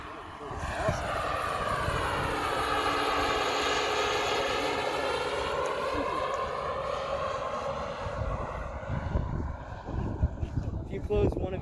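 A giant scale Bell 429 model helicopter flies nearby, its engine and rotor giving a steady loud whine with shifting pitch over about twelve seconds, mixed with voices talking beneath it.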